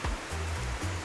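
Steady broadband rush of river water flowing at a riverside bathing spot with cool cabins, close and continuous for a second with low rumbling swells and no voices.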